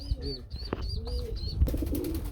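A gola (gorra) fancy pigeon calling, several rising coos in quick succession close by, followed by a burst of broadband rustle near the end.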